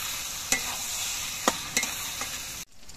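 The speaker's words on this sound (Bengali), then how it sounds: "বাবা পড়েই এবার সবকিছু দিয়ে নেড়ে চেড়ে মিশিয়ে নিতে হবে।" Chilli chicken being stirred and mixed in a frying pan, with a steady sizzle throughout and a few sharp scrapes of the spoon against the pan before the sound cuts off.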